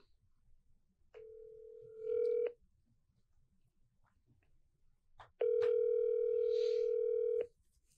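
Steady telephone tones on a phone line that is out, two flat sustained buzzes separated by a pause, the second louder and longer, in an otherwise quiet room.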